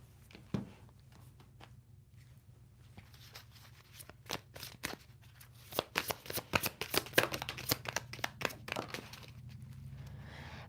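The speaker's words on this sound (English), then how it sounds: "now I'm going to pull from my other hidden message cards" Tarot cards, a deck of hidden message cards, being shuffled close up in a quiet room, with a string of crisp riffling snaps and slaps that grow denser and louder through the second half, no talking.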